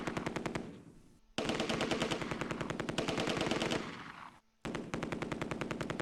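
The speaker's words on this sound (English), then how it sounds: "Bren." Bren light machine gun firing in the wartime strategy game Close Combat II, loud rapid bursts of evenly spaced shots broken by two short pauses between strings of fire.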